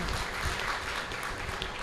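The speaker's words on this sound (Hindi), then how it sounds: "मैं चाहती हूँ उन बच्चों के लिए तालियां बजा दीजिए" Audience at a talk applauding for the children, a dense wash of steady clapping from a crowd, moderately loud and sustained for a couple of seconds.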